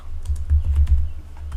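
Rapid keystrokes on a computer keyboard as code is typed for a Node and Express project, a close, steady patter of clicks with no talking.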